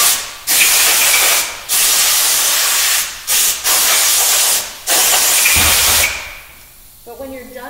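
Air-powered sander running without lubrication, with loud broadband hissing bursts that start and stop several times, close up, then fading into quieter background noise at the end.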